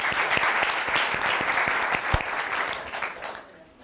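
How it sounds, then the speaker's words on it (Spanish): Conference audience applauding, dense clapping from many hands filling the room, fairly loud and steady with a few sharper claps standing out, then thinning and fading toward the end. "Un aplauso para él, por favor."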